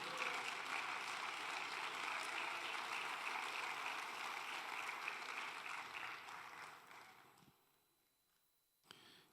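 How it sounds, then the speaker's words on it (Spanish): A church congregation applauds together, a dense, sustained wash of clapping that fades out gradually, with a brief sound at the very end. "Den un aplauso a Dios, hermano."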